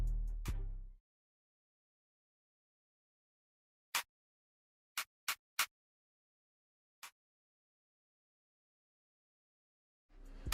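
A clap perc in a drill-style FL Studio beat, heard as a few sharp, dry clap hits spaced out in a sparse pattern, cut off by abrupt silences with faint bits of sound at the start and end.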